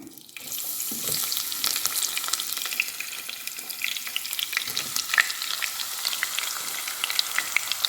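Chopped onions hit hot oil with fennel in a pan for a Sri Lankan dry fish curry, giving a steady, close, loud sizzle and crackle that carries on without break from the first second, with no talking.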